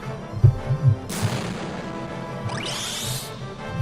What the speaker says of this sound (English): Right, drop the bomb.